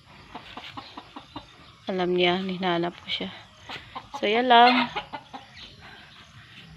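Chickens cluck and call nearby on a farm in two bursts, with people talking quietly in between.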